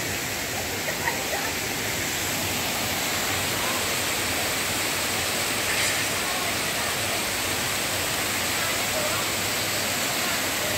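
A waterfall in the hills of Mussoorie, with water rushing and flowing below, forms a steady broadband roar that fills the whole clip without a break.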